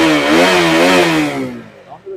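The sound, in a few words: RC200 motorcycle engine starting and revving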